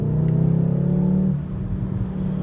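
A VW Golf R Mk7.5 engine and exhaust hold a steady, deep droning rev that eases off after about a second, leaving a low burbling rumble at the tailpipe.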